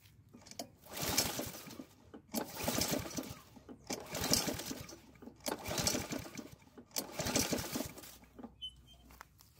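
A Honda lawn mower engine is cranked by its pull rope during a compression test, giving five or six rhythmic whooshing strokes about a second and a half apart, each rising and falling, close and moderately loud.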